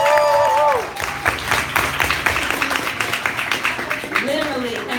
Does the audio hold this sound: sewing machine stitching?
no